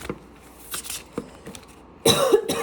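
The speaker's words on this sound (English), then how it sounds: "I don't know why I'm coughing" Several short coughs, close by, scattered across a few seconds and ending in a louder harsh burst of coughing.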